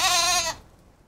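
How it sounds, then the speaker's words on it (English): A sheep lets out one short, wavering bleat, close and clear, which cuts off after about half a second and leaves quiet background. "Sheep."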